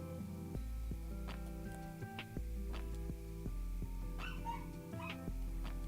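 Dogs bark in Tiny Tina's Wonderlands gameplay, several short yips and barks scattered over loud, steady game music that fills the whole stretch.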